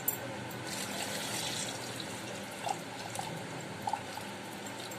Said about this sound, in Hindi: इसमें इतना पानी डालेंगे कि ये आंवले अपने डूब जाए